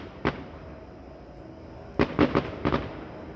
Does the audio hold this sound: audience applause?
no